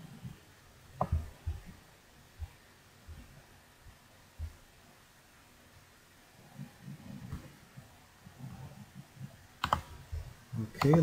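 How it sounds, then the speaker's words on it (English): A search word is typed on a computer keyboard in short bursts of close, soft key clicks separated by pauses, with a sharper clatter near the end. "So I'm just going to type in business."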